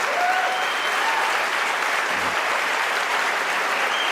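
A church congregation applauds during a sermon, a steady, dense roar of clapping holding at an even loudness for the whole stretch.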